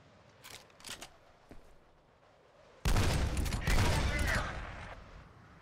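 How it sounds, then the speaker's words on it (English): Anti-materiel rifle fire in a video game: a few soft earlier pops, then a sudden loud, sustained burst of heavy blasts and rumbling debris lasting about three seconds before tapering off. "I'm gonna go ahead and call it an anti-material rifle"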